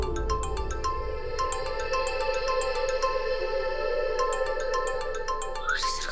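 A phone ringtone plays repeatedly in a rhythmic electronic pattern over a steady hum, with a brief rising tone near the end, set in a romantic Hindi drama just before someone answers a late-night call.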